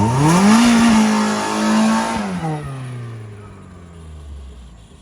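A Mazda Miata engine screams at its rev limiter during a burnout, loud and close, holding a steady high pitch for about two seconds before the revs fall away and drop into a lower, fading drone.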